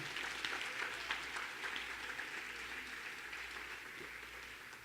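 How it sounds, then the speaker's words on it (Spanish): A church congregation applauds during a morning Spanish-language service. A dense, steady wash of many hands clapping continues throughout, soft and somewhat distant, with no voices over it. "Aplauda su nombre en esta mañana."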